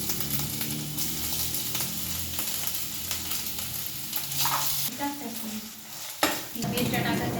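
Garlic paste sizzles in a hot pan with browned onion and ginger paste for chicken masala, a spoon scraping and stirring through the crackle, with a clear clink near the end.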